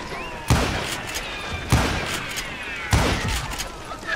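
Three heavy gunshots in the Western shooter Call of Juarez: Gunslinger, spaced about a second apart, each a loud booming crack with a rumbling tail, over a low game background.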